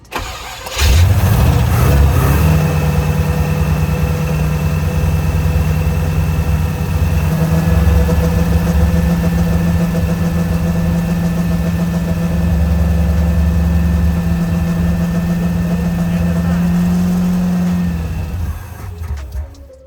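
A 1984 Corvette's 357 cubic-inch small-block V8 with AFR heads fires up and runs loud and steady during cam break-in, holding a sustained rumble with a slight rise in pitch before cutting off near the end.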